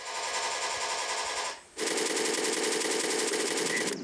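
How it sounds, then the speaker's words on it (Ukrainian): Simulated Kalashnikov automatic gunfire in a VR training simulator rattles in a fast continuous burst, breaks briefly, then resumes loud and steady without pause. "На такому тренажері військовослужбовець Артем навчається стріляти з автомата Калашникова та рушниці по fpv дронах і баражувальних боєприпасах ланцет."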